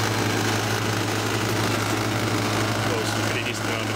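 Air compressor, part of a Hampson-Linde air liquefier setup, running on 240 volts: a steady, loud mechanical hum with a constant low drone and broadband noise, under a voice speaking.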